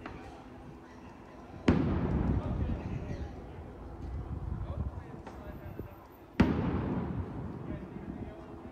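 Commercial-grade fireworks thrown at police during a protest, two sharp loud blasts each followed by a long rumbling decay, with crowd noise and talking underneath.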